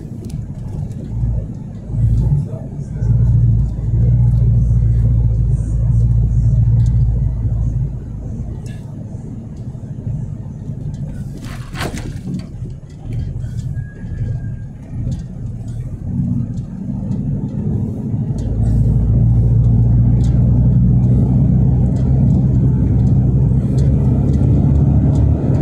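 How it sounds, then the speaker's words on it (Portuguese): A truck engine drives and revs near a stone quarry, a loud continuous low rumble that swells and rises in pitch toward the end, with people talking over it. "Vamos dobrar o caminhão ali."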